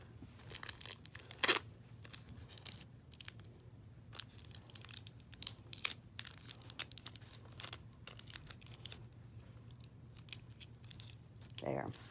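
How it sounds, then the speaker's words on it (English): Tape being pulled, torn and pressed to join the two ends of a tutu hoop, with close crinkling and sharp ripping bursts over a steady low hum, fairly quiet. "And I'm going to tape the two ends."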